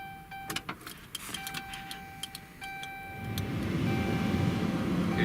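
Small electric vent actuator motors in a Dodge Ram's air flow system whirring and clicking in short bursts, then a steadier hum of air building from the vents, close and fairly quiet.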